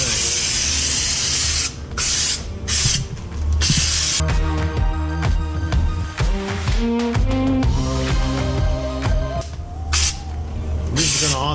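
Spray gun applying Raptor bed liner coating to a Jeep floor, a steady broad hiss running throughout with short breaks, while music plays underneath.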